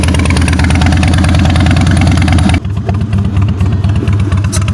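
Harley-Davidson Softail Springer with Big Shot Staggered exhaust idles close to the microphone, a loud, steady, deep lumpy rumble that dips slightly partway through, with no talk over it.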